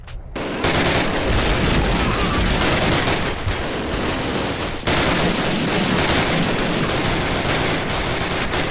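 Dense gunfire from a firefight in the PC shooter Call of Duty, loud rapid bursts of automatic weapons and blasts packed together almost without pause, with one brief break partway through.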